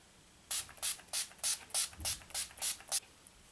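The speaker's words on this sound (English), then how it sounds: "to set everything, I'm going to use my Urban Decay All Nighter Makeup Setting Spray." Eight quick, even spritzes of Urban Decay All Nighter makeup setting spray hiss one after another in a steady rhythm, close and clear in a quiet room.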